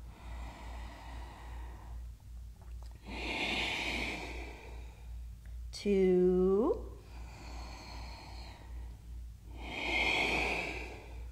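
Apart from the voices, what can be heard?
deep audible yoga breathing in Ashtanga practice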